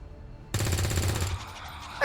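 A gun fires in the turn-based strategy game XCOM, a loud sustained burst of automatic fire with a rapid rattling pulse, cutting off abruptly and leaving a brief tail, with no speech over it.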